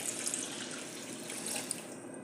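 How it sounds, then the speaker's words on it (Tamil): Warm water pouring steadily into a bowl of rice with a touch of cinnamon for soaking, a continuous close splashing flow. "கொஞ்சம் வார்ம் வாட்டர் ஊற்றி"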